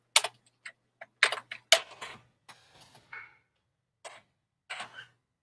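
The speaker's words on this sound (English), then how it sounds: "let me type in." Scattered keystrokes on a computer keyboard while laying out a flyer, clicking in short bursts with gaps and a few heavier taps, close and fairly quiet with no talking.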